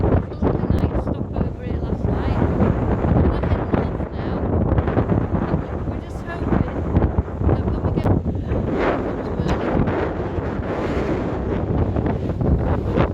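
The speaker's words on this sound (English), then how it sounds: "I stepped outside to see just how windy it was." Strong wind on Unst, Shetland, buffets the microphone with a constant loud roar and rumble, gusting throughout with no pause.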